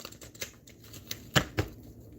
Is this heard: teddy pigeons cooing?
no